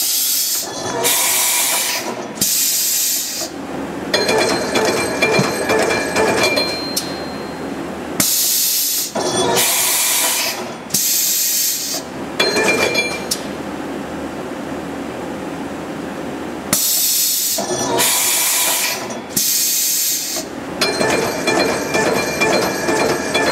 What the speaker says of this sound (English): We're doing tool changes.